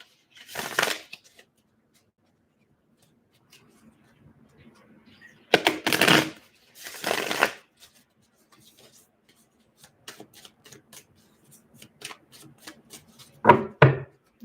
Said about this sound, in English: Just going to give this a shuffle.